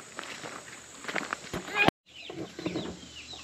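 Baby chicks being moved to a new coop give short clucks and chirps, mixed with footsteps and shuffling nearby, with people talking over them and a sharp knock just before a brief cut.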